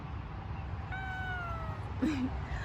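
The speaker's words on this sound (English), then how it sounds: "That's my cat, Puff." A single drawn-out cat meow, fairly faint, followed by a brief low sound against steady background noise.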